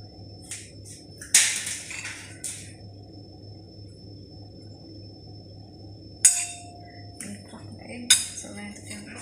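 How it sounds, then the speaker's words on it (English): Egg shells tapped and cracked for French toast batter, several sharp clicks and clinks against a bowl, separated by quiet stretches over a steady low hum. "So to crack the egg"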